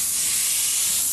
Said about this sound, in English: It's all ready now to be sprayed.